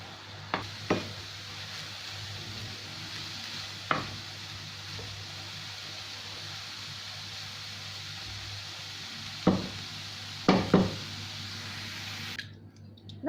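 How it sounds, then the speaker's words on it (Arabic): Chicken and mushroom quiche filling fries in a pan with a constant close sizzle, broken by several sharp scraping stirs and clicks of a utensil against the pan. "نخلي المقادير تتقلى مع بعض وتاخد نكهات بعض"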